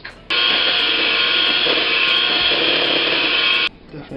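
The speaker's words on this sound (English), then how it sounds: "Time to whisk!" Electric hand whisk beating egg whites in a bowl for a marjolaine bake, a loud, steady motor whine that switches on abruptly, runs for about three seconds and cuts off cleanly.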